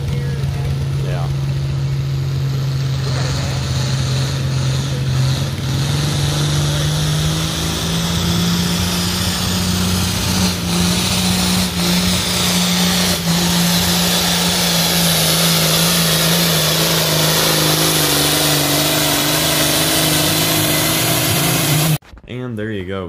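A John Deere 4020 pulling tractor strains down the track at a truck and tractor pull event. It produces a loud, sustained engine roar that climbs slowly in pitch for about twenty seconds before cutting off abruptly.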